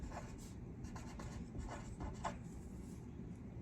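Pen scratches out notes on lined paper in short, soft strokes, a faint close rubbing with brief pauses and no speech.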